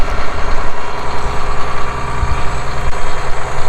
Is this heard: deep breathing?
no